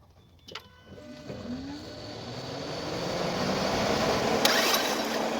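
A car engine cranks over during a test start after repairs for blue smoke and oil burning, a rising whirring drone that builds steadily and stays fairly loud, with a few sharp clicks early on.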